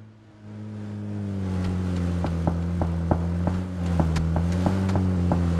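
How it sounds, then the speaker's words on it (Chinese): A jet ski engine in the video game PUBG starts up, then holds a steady, droning harmonic hum broken by a regular run of sharp ticks, close and fairly loud. "摩托艇！"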